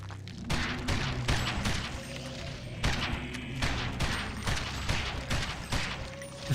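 Gunfire in a shooting video game crackles in rapid repeated bursts, with loud volleys of shots coming one after another for several seconds.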